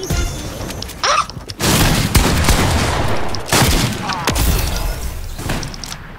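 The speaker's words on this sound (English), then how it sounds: "Hand cannons go crazy." Hand cannon gunfire in the Fortnite zone wars video game: heavy, booming shots ring out in several loud bursts with short gaps between them, and players talk faintly in the background.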